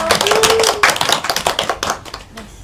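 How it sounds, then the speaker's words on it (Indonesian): A classroom audience of students at a microteaching session claps their hands together in a dense burst that thins out toward the end, with a few voices mixed in. "Kita kasih tepuk tangan dulu."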